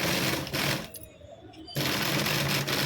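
A sewing machine stitches a hanging latkan for a blouse in close, rapid whirring bursts, stopping briefly for a quiet gap before running again.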